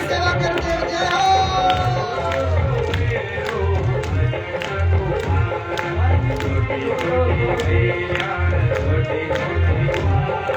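Audience clapping in a steady rhythm along to a devotional bhajan about Krishna at a Bhagavat Katha gathering, with singing, music and a drum beat throughout and the claps spread evenly across the room.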